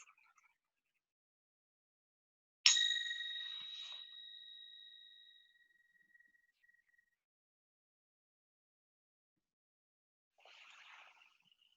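A meditation bell is struck once, a bright ringing tone with clear harmonics that decays slowly over several seconds into silence; a faint soft sound follows near the end.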